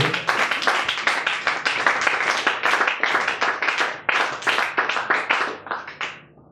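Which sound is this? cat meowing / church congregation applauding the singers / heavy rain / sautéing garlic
church congregation applauding the singers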